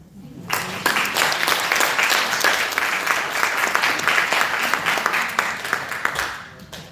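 Audience applause at a cancer screening and prevention forum: steady, dense clapping that rises quickly and holds at a fairly loud level for several seconds, with no talk over it.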